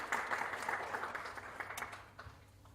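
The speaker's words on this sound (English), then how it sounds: "A big round of applause," A conference inauguration audience in New Delhi gives a round of applause, fairly distant and faint, a dense patter of clapping that thins out and fades toward the end.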